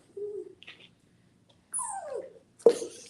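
A dog whimpers softly during a cup treat game, a few faint whines and a thin rising whine, then a brief louder yelp near the end, with nobody talking.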